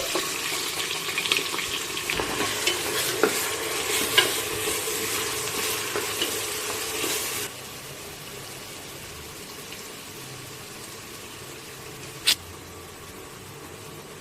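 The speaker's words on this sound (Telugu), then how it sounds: "ఆయిల్ వేడైనాక కట్ చేసి పెట్టుకున్న పచ్చిమిర్చి వేసుకున్నాం. అలాగే కట్ చేసి పెట్టుకున్న ఆనియన్స్ కూడా" Green chillies and onions fry in hot oil for a chicken gongura curry, a loud, close sizzle with stirring scrapes that drops to a quieter steady hiss midway, with a sharp clink near the end.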